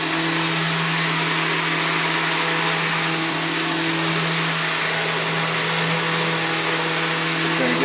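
A stick blender whirs continuously and loudly while mixing lye-based soap into oil, a steady unbroken motor whine for several seconds.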